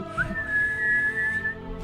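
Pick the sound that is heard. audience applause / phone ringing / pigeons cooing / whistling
whistling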